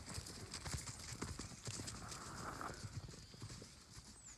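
Horses at a farm run and snort, with a steady patter of hoof clip-clop at a distance and occasional snorts, all fairly faint against an outdoor background with no clear talk.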